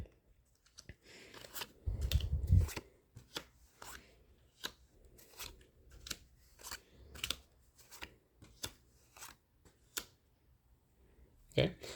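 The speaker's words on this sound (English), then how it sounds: "So I'm gonna again deal out the cards." Playing cards dealt out one by one for a poker hand, a series of soft flicks and slaps on a table at an uneven pace, close and quiet, with a few low voice murmurs between them.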